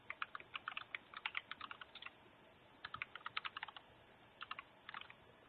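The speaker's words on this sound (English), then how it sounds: "we can type netuser" Computer keyboard typing in quick bursts of crisp, close key clicks with short pauses between words, loud and alone with no talk.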